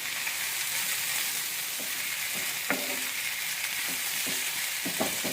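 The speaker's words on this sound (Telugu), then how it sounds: "ఇప్పుడు మనము ఈ కట్ చేసుకున్న టమాటో పీసెస్ని కూడా వేసేద్దాం. వేసి మంచిగా కలియపెట్టి" Eggplant curry with potato and freshly added tomato pieces sizzles steadily in a pan, with soft, irregular scrapes and knocks from a spoon stirring through it; no one speaks.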